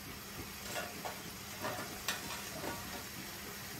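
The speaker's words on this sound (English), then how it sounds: "we fry the methi leaves till they are completely done" Methi (fenugreek) leaves frying in a pan for a mixed vegetable curry, a soft steady sizzle with occasional stirring scrapes and crackles, close and without voices.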